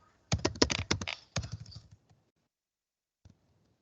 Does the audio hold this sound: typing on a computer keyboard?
yes